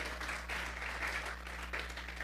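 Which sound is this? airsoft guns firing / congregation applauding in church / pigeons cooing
congregation applauding in church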